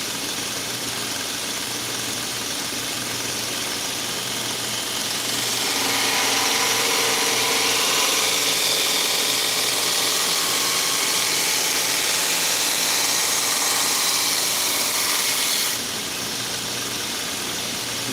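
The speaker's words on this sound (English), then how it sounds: "I put those Sharpie lines on it so I can make a pass across the grinder and see exactly where I'm removing metal." A knife blade bevel being ground on a belt grinder: a loud, steady broadband rush of metal removal over a running motor hum that swells in the middle of the pass and eases off near the end, with no talk.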